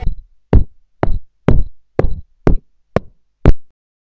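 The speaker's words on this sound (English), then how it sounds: "But then there was another knock at the door." Eight firm knocks on a wooden door in a steady, evenly spaced rhythm, loud and close, with nothing else heard.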